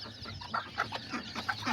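A short-legged miniature Aztecas hen clucks in a series of brief, close clucks that come in uneven bursts over a quiet yard background.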